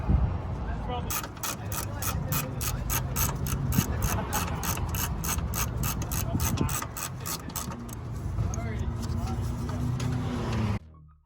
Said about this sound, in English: we're gonna get our socket wrench kit and take these out of there